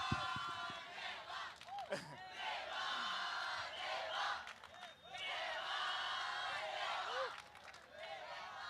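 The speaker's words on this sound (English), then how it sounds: "So, a big round of applause" A large crowd at a film teaser launch event cheers and shouts with scattered applause, the roar swelling and dipping over several seconds at moderate distance.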